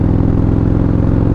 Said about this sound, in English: engine sounds good. Let's have a listen.